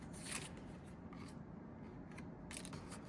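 Scissors snip through paper for an art project in a few close, crisp crunching cuts over a quiet hiss.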